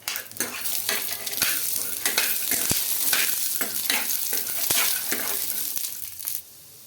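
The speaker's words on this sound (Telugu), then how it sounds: "ఈ పల్లీలు ఆయిల్ బాగా ఫ్రై అవ్వాలండి" Peanuts, ginger and garlic fry in oil with a continuous close sizzle, broken by repeated scraping stirs and sharp utensil knocks against the pan before the sound drops away at the end.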